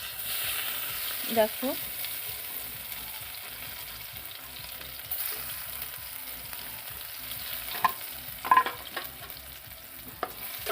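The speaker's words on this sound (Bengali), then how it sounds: "রসুনটা একটু ভালো করে ভেজে নেব" Crushed garlic frying in hot oil, a steady soft sizzle running throughout with occasional stirring scrapes and clicks, close by; a brief spoken word near the start.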